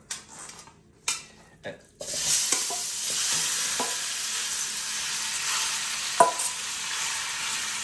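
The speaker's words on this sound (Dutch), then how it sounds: "ik heb wat hete olie in een wok gedaan en nu gaan we hem even bakken" A few clanks of a utensil against a wok, then a loud, steady sizzle of chicken frying in hot oil, with another brief scrape near the end.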